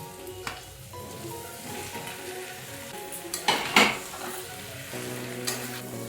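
Boiled jackfruit pieces fry in a pan with spiced potato, a steady sizzle with metal utensil scraping and clinking as they are stirred, loudest in a short burst midway.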